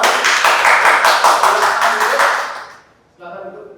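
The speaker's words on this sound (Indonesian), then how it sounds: "Sekali lagi tepuk tangan untuk kelompok 2." A classroom of students claps for group 2 after their presentation, a dense run of handclaps that fades out after about two and a half seconds, followed by a brief spoken voice.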